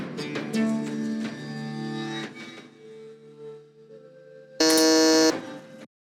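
Quiz buzzers being reset during a music-identification game: a run of electronic tones and chimes, then a short loud harsh buzz near the end, with no talk.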